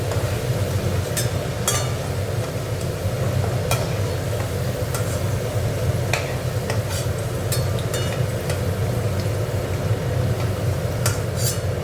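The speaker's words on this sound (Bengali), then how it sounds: "দেখো তেজপাতা, শুকনো লঙ্কা, গরম মশলা ফোড়ন দিয়ে দিলাম" Bay leaf, dried chillies and garam masala are tempered in hot oil, producing a continuous close sizzle with scattered sharp crackles and pops, and no talking.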